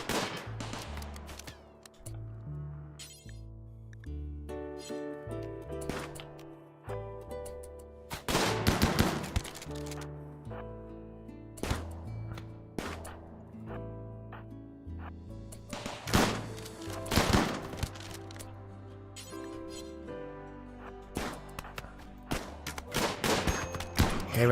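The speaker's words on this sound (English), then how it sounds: "we're now firing into combat" Combat gunfire in the RimWorld video game: bursts of sharp shots and rapid automatic fire, with several loud clusters, over an ongoing musical background and no talking.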